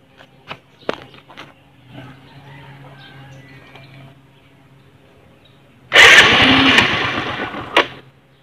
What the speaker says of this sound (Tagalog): bukasan natin yung makina